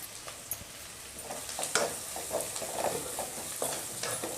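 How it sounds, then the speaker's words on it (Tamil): Onions, green chillies, fennel, pepper and curry leaves frying in a pan for a goat blood fry, a soft steady sizzle with scattered stirring scrapes and clicks, close but quiet. "நல்லா வதங்கி வரட்டும் நம்ம போட்ட வெங்காயம் பச்சை மிளகாய் சோம்பு மிளகு"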